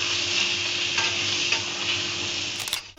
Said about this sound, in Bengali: পটলগুলো ভালো করে ভেজে নিয়েছি